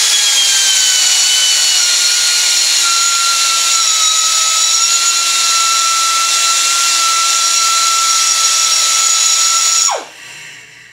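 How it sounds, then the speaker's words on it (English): Die grinder cleaning up metal inside a turbo housing, a loud, steady high-pitched whine held close for about ten seconds before it cuts off and spins down. "So a little cleanup with the die grinder."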